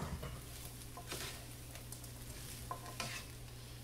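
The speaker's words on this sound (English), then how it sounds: "So now we're ready to put our bacon" Bacon and garlic fried rice sizzle in a pan, a soft steady fry with light stirring scrapes and a couple of faint knocks, quiet and close, with no voice.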